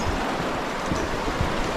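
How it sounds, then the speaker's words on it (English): Fast, high-flowing river rushing beneath a bridge in Kootenay National Park, a dense, steady roar of turbulent water close by with no voices. "We had to cross 2 bridges to get across the river because the flow of the river was so high"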